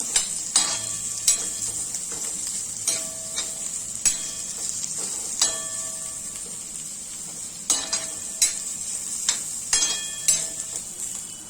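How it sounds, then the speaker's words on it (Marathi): Onion sizzling and frying in oil in a pan, a constant bright hiss with repeated sharp clinks and scrapes of a spatula stirring, close and moderately quiet, no voices. "तेलावरती चांगला कांदा परतायचा आहे आपल्याला मस्त"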